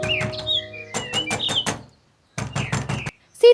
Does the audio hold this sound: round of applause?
no